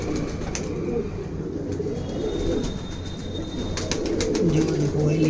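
Blue sendha anara pigeons cooing close by, soft low throaty coos over a background hum, with someone talking over them.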